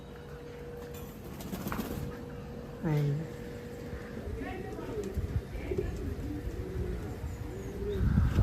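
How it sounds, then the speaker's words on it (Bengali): Pigeons cooing at a rural estate's bird enclosure near Kolkata, a soft low burbling coo repeated several times beneath a person talking nearby, with other birds calling faintly in the background. "পায়রা।"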